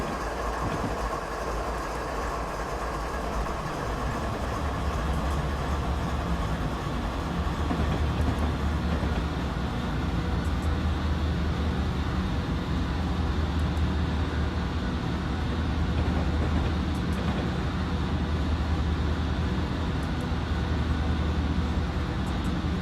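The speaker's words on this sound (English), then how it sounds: "Shot of the train passing at speed," A BNSF ES44DC diesel locomotive train passing at speed in Train Simulator 2016 on Stevens Pass, with a continuous loud rumble of engine and rolling wheels and rail clatter, steady throughout.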